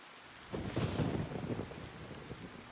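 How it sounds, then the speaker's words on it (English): A heavy downpour and thunderstorm in the video game DayZ, with a deep rolling thunder rumble swelling over steady hissing rain, loud and close, with no talking. "it's raining heavy and it's a thunderstorm with a lot of thunder"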